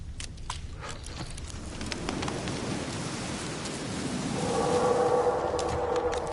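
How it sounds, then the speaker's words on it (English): Steady rain hiss in Witcher 3, a dense even wash with a few sharp ticks, growing slightly louder toward the end with no voices. "Looks like rain."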